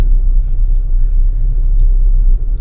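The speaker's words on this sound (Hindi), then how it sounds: "आवाज कर रही गाड़ी" Car rumbling with a loud, steady low-pitched drone from inside the vehicle, continuous and close with little variation.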